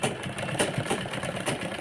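A sewing machine stitches a crop top for a 12-year-old girl in a steady, fast, close-up mechanical whir with no talk.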